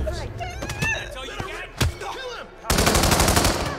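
SMG gunfire in the Hitman 2 video game: a dense, loud burst of rapid automatic shots near the end, after a single sharp shot and a stretch of excited talking.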